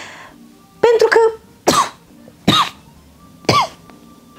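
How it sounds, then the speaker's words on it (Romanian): A person coughs several times in a row, four sharp, close coughs spaced about a second apart in an otherwise quiet room. "Dar tu de ce tușești?"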